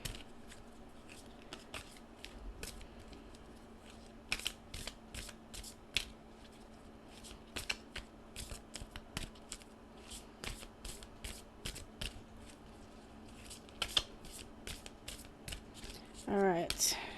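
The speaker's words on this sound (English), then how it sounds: "I'm going to pull 3 cards with my tarot deck" A tarot deck is shuffled by hand, soft rapid riffles and card flicks repeating close and quiet over a steady low hum, with brief speech in places.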